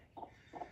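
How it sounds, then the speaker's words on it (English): A hen makes two soft, short clucks about half a second apart, faint and close in a quiet pen, with no talking over them. "When you walk in out here, she starts that pretty little clucking noise."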